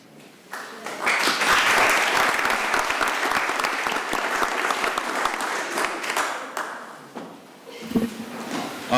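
A city council meeting in Cranston breaks into applause, with a room of people clapping loudly and steadily for several seconds before it tapers off, followed by a few scattered sounds and murmurs.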